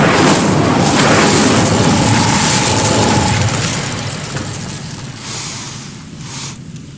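A fire spell cast in Hogwarts Legacy erupts with a loud, roaring whoosh and crackling burst that holds strong for a few seconds, then fades into a softer rumble and brief flare near the end.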